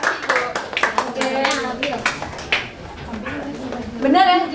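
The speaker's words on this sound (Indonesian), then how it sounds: "Tepuk tangan dulu buat Nabila" Brief bursts of classroom clapping for a student who answered correctly, mixed with a teacher's voice and children talking, the claps fairly close and uneven.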